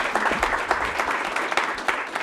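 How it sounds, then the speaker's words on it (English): An audience applauds after a morning presentation at a community gathering, steady dense clapping throughout, close and loud. "Yeah, round of applause."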